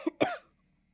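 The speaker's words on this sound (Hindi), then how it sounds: "बार बार खांसी आ रही" A short cough close to the mic: a small hack followed by a harsher, rasping cough, then silence.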